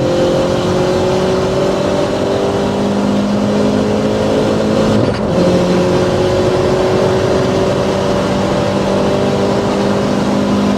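A turbocharged, heavily modified 260 hp Opel Corsa OPC engine with hybrid turbo and intercooler roars steadily at high revs, loud and close, with a brief dip partway through as it hits the rev limiter before the drone resumes.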